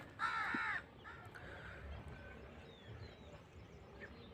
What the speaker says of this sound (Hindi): और पीछे आवाज़ भी आप कौवे की सुन सकते हैं।